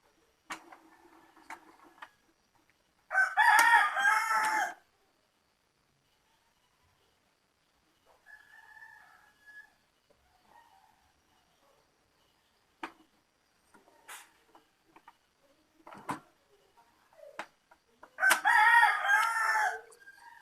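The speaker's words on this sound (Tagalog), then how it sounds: "Ang ingay ng mga manok, di ba?" Roosters crow loudly at dawn in two long calls, one near the start and one near the end, with quiet ticking and faint clucks in the otherwise still gaps between.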